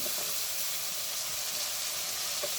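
Loitka dried fish sautés in hot oil in a pan, giving a soft, continuous sizzle and hiss at low volume with no voices.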